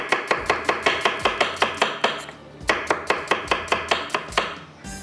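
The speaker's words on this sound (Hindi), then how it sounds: "प्याज को करेंगे स्लाइस में कटिंग" A knife slices onions on a cutting board in quick, regular chops, a crisp repeating knock of about a dozen strokes, then a short pause, then another run of close, clear cuts with no voices.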